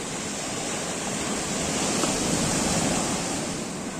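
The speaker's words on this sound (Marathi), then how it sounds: "लाट येतात त्यामुळे भिजाक होता." Sea waves wash against the shore in a continuous, loud, broad roar of surf, with wind noise layered on top and no talking.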